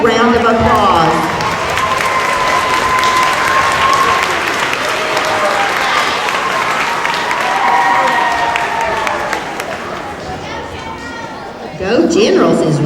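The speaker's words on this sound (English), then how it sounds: "Let's give them a big round of applause" An elementary school crowd claps and cheers for fourth-grade students at an award ceremony, sustained applause mixed with children's shouts and chatter that fades briefly near the end before another burst of noise.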